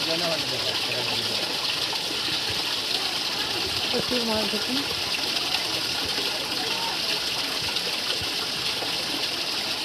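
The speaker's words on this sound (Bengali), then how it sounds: "ঝর্ণার পানি পড়তেছে" Water pours steadily from a waterfall into a pool where fish gather, a constant loud rushing hiss filling the whole stretch while someone talks over it.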